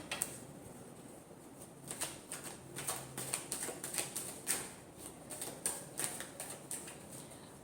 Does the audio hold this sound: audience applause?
no